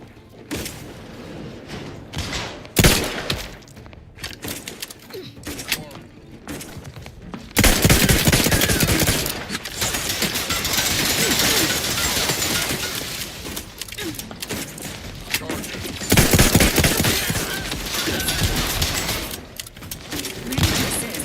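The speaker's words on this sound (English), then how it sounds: "Well, shooting." Gunfire in The Outer Worlds 2, scattered single shots and thuds at first, then sustained loud bursts of automatic fire with heavy impacts, close and dense through most of the stretch.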